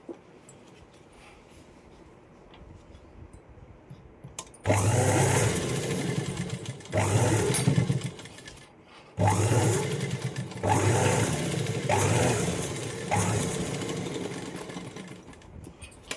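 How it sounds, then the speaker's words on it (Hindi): A sewing machine stitches through folded fabric in several loud, steady runs with short pauses between them, heard alone without talk. "और इस पार्ट को हम इसी के ऊपर ऐसे रखेंगे और इसमें यहाँ सिलाई लगा देंगे"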